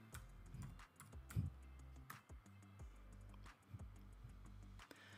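Computer keyboard typing while entering a search in an image menu, a run of quick uneven clicks at close range with brief pauses, fairly faint, with no talk.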